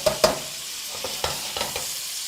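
Shrimp stir-frying in a pan with ginger and peppers, giving a steady close sizzle broken by several sharp scraping stirs, with no talking.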